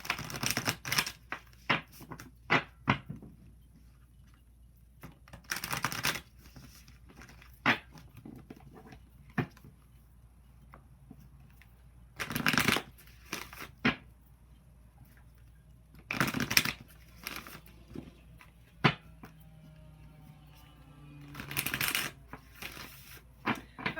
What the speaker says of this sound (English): Let me give them a good shuffle.